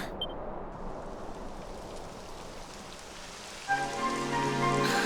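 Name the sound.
rain falling in a video game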